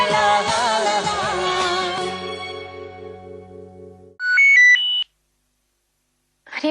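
After music fades out, a phone rings in a short electronic melodic burst of a few rising tones lasting about a second, loud and clear, then silence before another ring begins.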